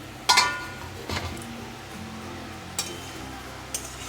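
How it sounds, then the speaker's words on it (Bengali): A metal lid lifted off a kadai of cauliflower, potato and parshe fish, a sharp clink at the start followed by a few lighter taps and knocks spaced out against a quiet background. "কিছুক্ষণ পর আমি ঢাকনাটাকে খুলছি কড়ার"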